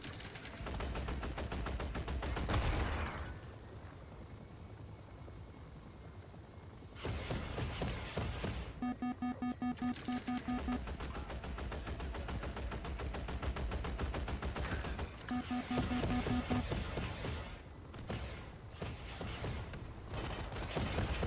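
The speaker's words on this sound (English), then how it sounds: "I'm just spamming rockets because, well, we have them." Rockets fire repeatedly in the video game Infra, with rapid trains of sharp launches and booms separated by brief lulls over a continuous engine-like drone.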